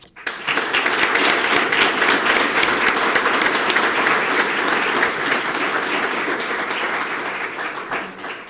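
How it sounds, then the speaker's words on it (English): At the Sarasota Police Department awards ceremony, the audience claps loudly and steadily for a medal recipient, a thick wash of applause that tapers off near the end. "Let's give another round of applause for all these recipients."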